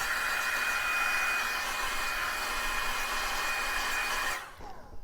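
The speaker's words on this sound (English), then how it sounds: "And then I blow my hair upside down." An old drugstore Conair hair dryer, at least five years old, blows steadily as hair is dried upside down, a loud close whooshing roar that cuts off abruptly near the end.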